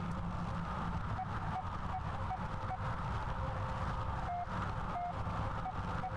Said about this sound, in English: Beeping coming from the speakers. Maybe there's something out there after all.